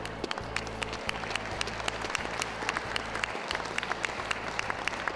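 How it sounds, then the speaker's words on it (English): Audience applause at the City of Birmingham Dog Show working group, a steady, sustained wash of many clapping hands filling the hall with a low hum beneath. "we have a round of applause, please, for our working group judge, Mrs. Jan Rual."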